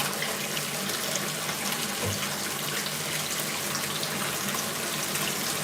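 Tap water runs steadily into a basin to wash and soak feet at home, a continuous close splashing flow that holds an even level throughout with no voices.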